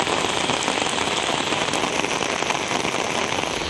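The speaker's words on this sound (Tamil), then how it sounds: "பலத்த காற்றுடன் மழை பொழிந்தது" Heavy rain driven by strong wind, a dense, constant hiss of drops pattering on surfaces with no pauses and no voices.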